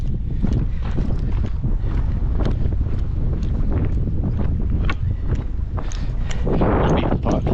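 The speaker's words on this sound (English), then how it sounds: "Ooh, it's windy." Strong wind buffets the microphone on a winter trail at Jumped Up Loops in Kananaskis, a loud continuous rumble with gusty bursts throughout, while someone talks briefly over the roar.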